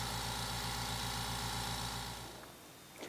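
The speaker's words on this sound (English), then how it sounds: "The new air compressor is much quieter at 67, 68 decibels" A new quiet air compressor runs with a steady, even mechanical hum and pulsing motor drone, then winds down and fades to near silence near the end.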